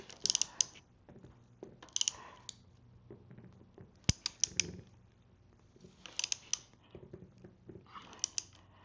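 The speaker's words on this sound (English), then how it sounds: "now I can go ahead and crank down on these riser bolts" Ratchet tightening the riser bolts on a 2026 Harley-Davidson Nightster with Arlen Ness risers, close, quiet clicking bursts repeated in several short strokes with gaps between.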